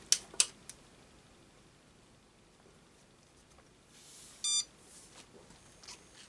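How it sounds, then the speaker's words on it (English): A single short electronic beep from a CJ3000Q power inverter at normal startup sounds in a quiet room, preceded by a few faint clicks and soft handling noises. "if I press the on switch here now, it should beep one to show normal startup"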